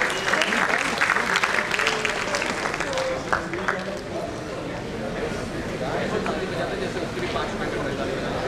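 A conference audience at a Defcon security event in Lucknow gives a big round of applause, dense and steady clapping at first that gradually thins, with crowd chatter and voices mixed in throughout.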